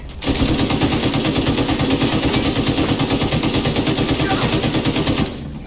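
Sustained automatic gunfire in the shooter video game The Division 2, a loud, rapid and steady stream of shots for about five seconds that then cuts off abruptly.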